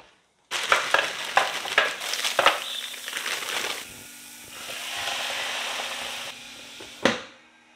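Jimmy Dean turkey sausage frying in an electric skillet, a steady close sizzle with clattering scrapes and taps from a utensil, a quieter hiss toward the end and a sharp knock just before it stops.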